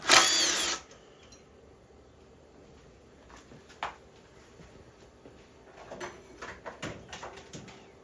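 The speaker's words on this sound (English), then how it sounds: "I'm going to remove this gas tank just to see what we got going on under here. Two 10mm bolts." Power driver or ratchet backing out two 10mm bolts holding the gas tank on a 1999 Suzuki Intruder 1400cc V-twin motorcycle, a loud whirring burst at the start followed by scattered clicks, clinks and taps.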